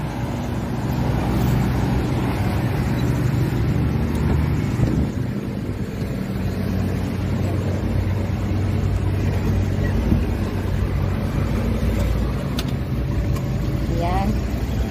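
Engine of a Suzuki Carry multicab with a manual 4x4 and kargador setup, idling steadily with a rough low rumble and some wind noise, while a person talks over it.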